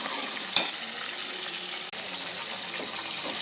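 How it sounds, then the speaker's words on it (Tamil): Mustard seeds, urad dal, fenugreek, cumin, shallots and curry leaves tempering in hot oil for a broad bean sambar, giving a steady bright sizzle with a few sharp crackles and pops, close and alone. "இப்போ அதை தாளிச்சிக்கலாம். கடுகு, உளுந்து, வெந்தயம், சீரகம், சின்ன வெங்காயம், கருவேப்பிலை போட்டிருக்கேன்."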